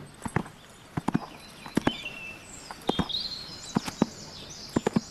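Horse hooves strike the ground in a loose run of sharp clip-clop beats from a standing start, some close together and some spaced apart. Faint bird calls sound in the background.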